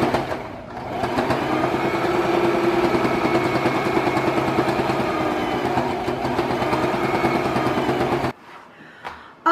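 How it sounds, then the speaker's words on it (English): A sewing machine stitches the seam of a fabric scrap runner, its needle chattering in a fast, steady rhythm for several seconds before it stops abruptly, leaving near silence. "I'm sewing, this is my seam line."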